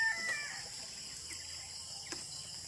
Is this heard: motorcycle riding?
no